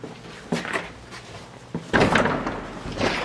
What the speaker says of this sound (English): So this is the door here.